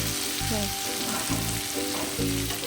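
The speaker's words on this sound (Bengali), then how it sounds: "মশলাটা কষিয়ে এই দেবো এর মধ্যে" Loud, steady sizzling of a chilli spice paste frying in a hot pan, a dense crackle that continues without pause and has a low hum beneath it.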